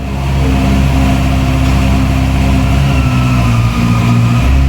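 A 2025 Honda CBR 650R motorcycle engine runs steadily at close range while the bike is backed up, a continuous loud idle-like drone with a low rumble throughout.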